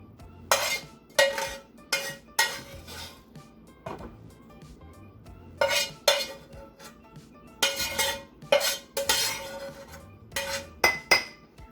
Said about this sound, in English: So we'll just separate the protein mix into our ramekins here.